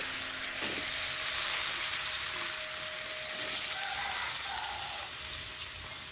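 Fresh amaranth stems go into oil cooked with salt, turmeric, coriander and cumin powder, raising a broad hissing sizzle that holds steady with brief stirring sounds; no one speaks.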